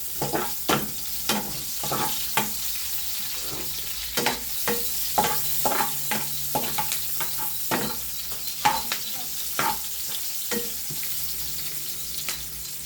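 A large onion for chicken adobo fries in a pan, a continuous close sizzle broken by frequent rhythmic scrapes and clacks of stirring, with no talking.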